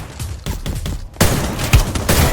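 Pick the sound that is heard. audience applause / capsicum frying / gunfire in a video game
gunfire in a video game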